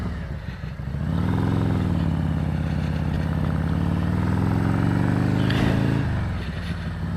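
A big-wheel bagger motorcycle with a 21-inch front wheel, making about 146 horsepower, runs hard on a dyno: a loud, steady engine drone that climbs in pitch over several seconds, holds, then eases off near the end.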